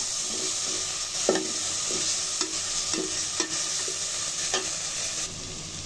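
Raw garlic, ginger and cumin paste sizzles steadily in a pan, with a spoon scraping through it in a regular series of close strokes roughly every half second, and no talking.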